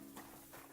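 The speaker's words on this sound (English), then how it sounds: "Horses." Horse hooves clip-clop in the medieval game Kingdom Come: Deliverance II, a short burst of two or three soft hoof strikes over a steady hum of game ambience, with no talk.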